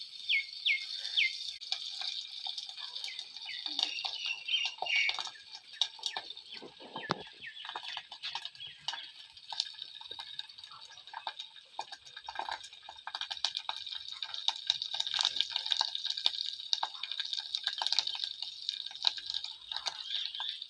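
Fennel seeds and curry leaves frying in hot oil in a pan while making pepper chicken, a steady dense crackle and sizzle with constant popping that runs through the whole stretch with no voices.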